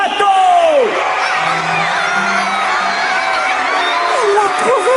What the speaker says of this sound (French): Je vous demande d'applaudir bien fort celle que vous attendez tous